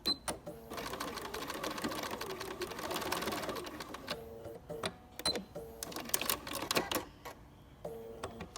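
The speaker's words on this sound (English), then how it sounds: "Raise your foot with your needle down and turn it, and then you're going to do some back stitching sideways to keep it from unraveling." A sewing machine back stitching a protective face mask whirs in a long steady run, then breaks into shorter stitch bursts separated by brief pauses and handling clicks.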